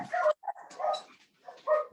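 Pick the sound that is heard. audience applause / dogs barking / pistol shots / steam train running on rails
dogs barking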